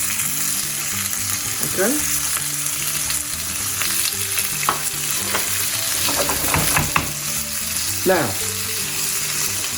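Prawns frying in a hot pan as a loud, continuous sizzle with occasional scraping strokes, while a person briefly speaks over it near the start.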